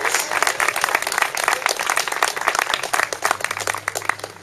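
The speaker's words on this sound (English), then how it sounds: "I think you deserve a round of applause for all of your efforts." Sustained audience applause fills a room, dense and steady clapping from many hands at fairly close range, holding at an even level throughout with no voices rising above it.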